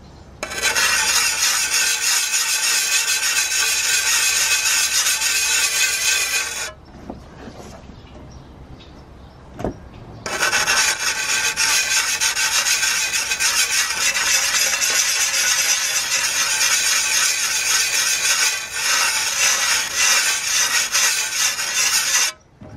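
A shovel blade is sharpened by hand with a sharpening stone, giving loud, steady rasping strokes that run continuously, break off for a few seconds with a brief scrape, then resume and carry on to the end.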